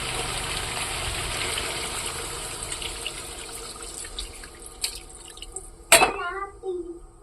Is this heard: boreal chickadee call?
no